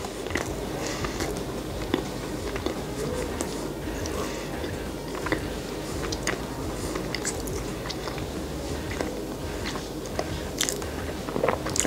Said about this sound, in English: This is a very delightful peanut butter cookie. A It's soft, it's chewy.